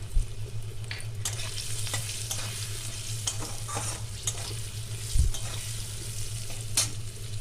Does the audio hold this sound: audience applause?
no